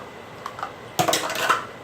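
Dishes and utensils are handled in a kitchen sink, giving a few light clinks followed by a cluster of louder clattering knocks and scrapes close by, with no speech.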